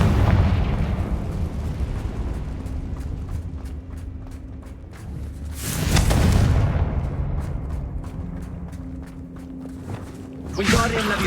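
Confringo spell blasts in Hogwarts Legacy, two booming explosions about five seconds apart with crackling debris trailing off between them and a low rumble underneath.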